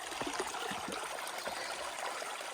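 Creek water runs steadily, a continuous rushing trickle and babble that stays even and fairly soft throughout.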